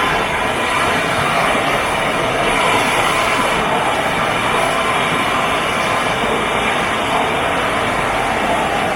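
A propane torch roars steadily and loudly as it heats copper tube for brazing, a constant broadband rushing hiss that stays level throughout with no pauses.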